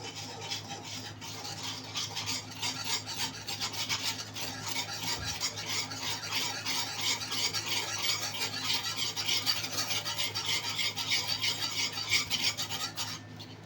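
A spoon stirs khandvi batter of gram flour with turmeric and salt in a bowl, a steady rhythmic swishing and rubbing that continues close and alone throughout.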